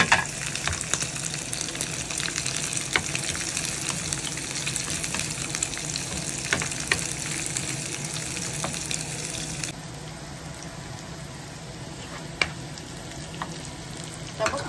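Onions sizzle and fry steadily in a pan while munggo with pork and bitter gourd is being cooked, with a continuous crackle and occasional sharp pops and stirring clicks, and no talking.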